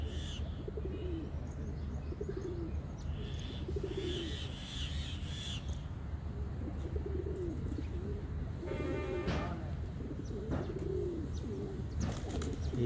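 Tumbler pigeons coo repeatedly at close range, soft throaty calls rising and falling, with occasional chirps from other birds in the background.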